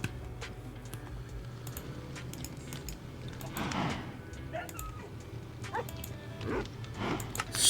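Several short, scattered yelps from dogs in the video game Minecraft come through faintly over a low background, alongside light clicking.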